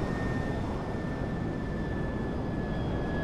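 A cargo jet in Grand Theft Auto V roars as a loud, steady, close engine drone with a thin high whine running through it, with no voices over it.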